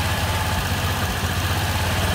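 A Suzuki Access scooter engine idles steadily at close range during tuning, a low even putter with a slight vibration and no speech over it.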